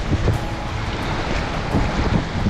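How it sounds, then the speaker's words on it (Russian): A light breeze buffets the microphone over small sea waves washing at a beach on Bantayan Island, Cebu, in the Philippines, a continuous loud rush of wind noise and surf with no voices. "Небольшой ветерок, небольшие волны."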